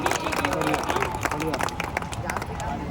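Applause from an audience at a poetry recitation during the Jajwalya Dev festival in Janjgir, a dense, steady patter of many clapping hands with a crowd murmuring underneath throughout.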